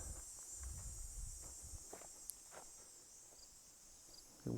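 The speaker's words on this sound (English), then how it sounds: "to hear the cicadas. It gives you an idea that it's pretty hot and summery still." Cicadas buzz in a faint, continuous high drone from a distance, with a few soft rustling steps underneath.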